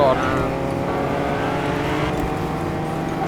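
A car engine drones steadily while driving in Fortnite, a continuous mid-level hum that runs the whole time under people talking.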